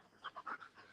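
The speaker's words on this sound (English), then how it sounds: "My dog's going nuts here." An excited pet dog named Sweet Lou pants in quick, rhythmic breathy puffs with faint whimpering tones, close but quiet, with no talk.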